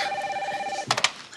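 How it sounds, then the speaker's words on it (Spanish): A telephone rings in a home, a steady electronic tone that ends shortly before a quick cluster of three sharp, brief beeps, heard alone. "Teléfono."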